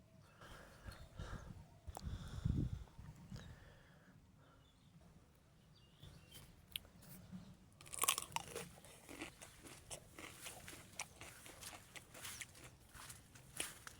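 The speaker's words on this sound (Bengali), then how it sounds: "গাছের থেকে ছেড়লাম, এখন এটা খাবো।" Someone bites into and chews fruit just picked from the tree, with crisp crunching that comes in bursts, loudest near the start and again later, close to the ear over faint outdoor background noise.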